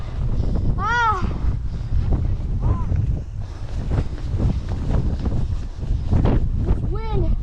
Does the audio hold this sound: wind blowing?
yes